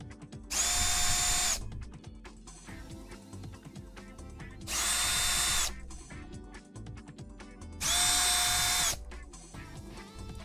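A power screwdriver runs in three separate bursts of roughly a second or more each, loud and close, with quieter pauses of handling noise between them.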